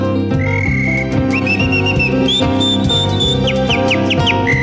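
Bright, sliding whistled calls imitating a calandria mockingbird, rising and falling over a steady folk-song accompaniment with a regular bass rhythm.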